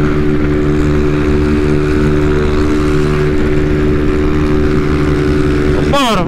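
A Honda Titan 160 motorcycle on a city avenue drones loudly and steadily at close range, a constant engine hum with a rising shift in pitch right at the end.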